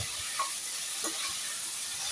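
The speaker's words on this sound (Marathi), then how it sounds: "हा मसाला एकदम व्यवस्थित परतून घ्यायचा आहे" Masala for a Tamil fish kolambu, seasoned with tamarind and salt, sizzles softly as it is stirred and sautéed in the pan, a faint steady hiss with a few light scrapes.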